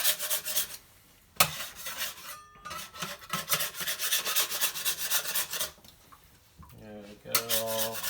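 Sourdough dough being stretched and folded by wet hands against a bowl, giving close, repeated rubbing and scraping strokes in uneven bursts with short pauses between.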